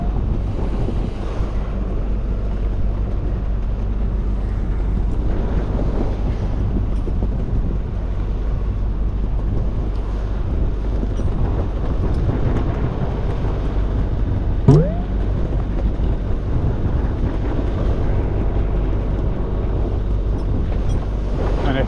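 A small boat motors at 5 knots and 2000 RPM along a marked channel, its engine a steady low rumble beneath constant wind buffeting the microphone and wash of water.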